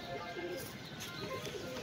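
Several pigeons, including six females and a male, cooing softly and continuously in a loft, a low steady murmur under faint background noise.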